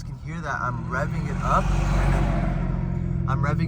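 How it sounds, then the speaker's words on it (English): A B58 car engine roars steadily and rises in revs during rev-and-blip throttle runs, with someone speaking over it at times, close and loud. "So rev up, blip, rev up, blip, rev up, blip."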